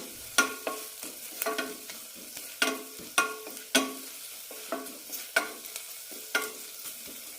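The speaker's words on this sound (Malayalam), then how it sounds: "പൊടികളുടെ പച്ചമണം പോകുന്നവരെ വഴറ്റാം" Coriander, turmeric and chili powders sautéed in a pan for a beetroot curry, heard as a regular series of sharp spoon scrapes and taps over a faint sizzle, close and unaccompanied by speech.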